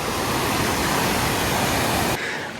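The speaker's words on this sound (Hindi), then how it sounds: "ऊपर से आ रहा है झरना और भी ऊपर से" A waterfall high in the Alpine mountains rushes in a steady, dense roar heard up close with no talk, dropping slightly in level just before the end.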